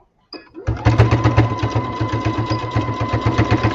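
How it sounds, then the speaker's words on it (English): An electric sewing machine stitches a small corner of fabric down with a fast, steady mechanical chatter. It starts after a brief pause, close and loud, and runs without voices. "we're just gonna sew that little corner part down"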